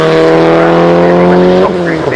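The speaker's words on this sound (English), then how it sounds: "the Lancia Delta Integrale" A Lancia Delta Integrale rally car from the 1990s accelerates hard on a hill climb course, its engine holding a loud, steady strained note before shifting near the end, close and dominant.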